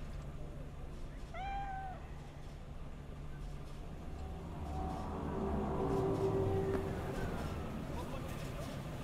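A cat in the video game Cyberpunk 2077 gives one short, clear meow near the start, heard over a steady low rumble of city and train-like ambience that swells later.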